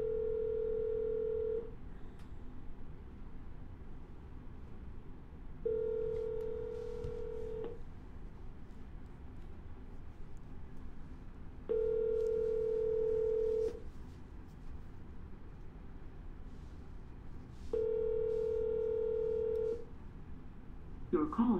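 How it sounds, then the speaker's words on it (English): Telephone call to a seller, with repeated ringback tones: four steady buzzing rings separated by pauses of a few seconds, over a constant low background hum, with no one speaking. "We're going to double dial."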